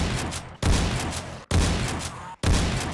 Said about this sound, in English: the shotgun stun is so good